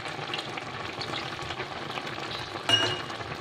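Black gram vadiyalu gravy curry cooks in a pan with a steady, close bubbling sizzle, rising briefly in a louder burst near the end, with no talking.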